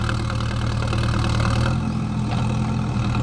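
A tractor engine idling close by in a village, a loud, steady low rumble with an even chugging pulse throughout the short stretch, no voices.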